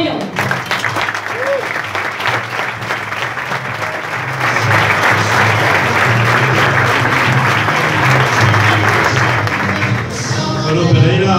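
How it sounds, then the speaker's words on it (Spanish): An audience at an evening business networking event in Pereira, Colombia breaks into loud, sustained applause that holds steady and dense, briefly swelling before fading near the end. "Ayúdenme a recibir con un fuerte aplauso"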